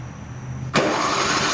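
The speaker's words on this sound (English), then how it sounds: "Electric starter's working. We're off to a good start." Noma 8hp 27-inch snow blower is cold started with its electric starter: a brief whirring crank, then the engine abruptly catches and settles into a loud, steady running roar close by, with no talk.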